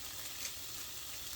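About two tablespoons of butter sizzle in a pan, a soft, even hiss that stays faint and close for a brief moment with nothing else over it.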